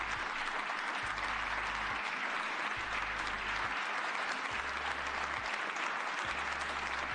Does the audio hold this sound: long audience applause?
yes